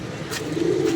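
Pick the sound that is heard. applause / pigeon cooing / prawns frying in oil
pigeon cooing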